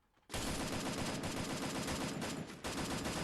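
Rapid automatic gunfire in the battle game Free Fire, a loud continuous burst with a short break near the end before the shooting resumes, with no talk.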